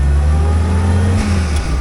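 A 1956 Willys CJ5 jeep with a rebuilt engine drives along, its engine droning loud and close with a steady low hum that shifts pitch slightly as it changes speed.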